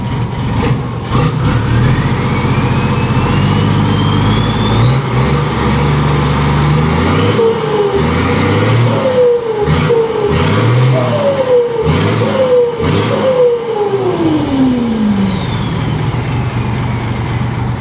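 A car engine revving repeatedly through an aftermarket exhaust tip, a long rising pull followed by a series of sharp rev blips and falls, loud and close throughout.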